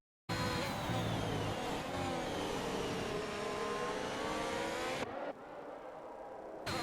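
A Formula-style race car engine in a sim racing game at Great Britain roars steadily at high revs, loud and continuous, with pitch sweeps through gear changes before dropping to a lower, slightly quieter drone.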